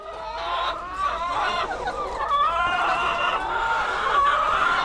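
Several egg-laying chickens cluck and squawk close by, overlapping busily with no pauses and no voices.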